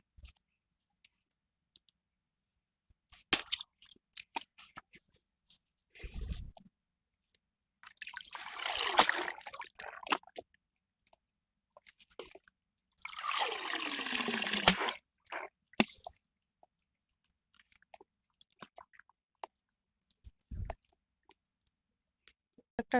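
Freshly picked home-garden spinach is washed by hand in water. Two longer bouts of sloshing and trickling are separated by quiet gaps with scattered small wet clicks and splashes, close and fairly soft.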